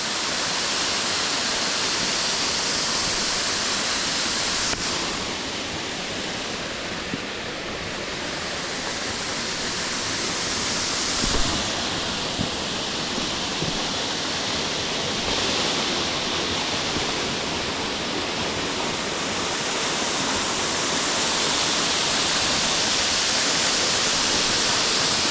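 Waterfall in Craik Forest pouring steadily into a pool, a constant broadband rush of falling water that stays loud and unbroken throughout, with no voices over it.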